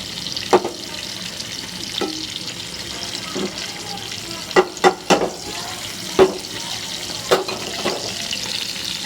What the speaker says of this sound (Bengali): ফ্রাই করতেছি। এখানে মাছ রান্না প্রায় আমার হয়ে গেছে।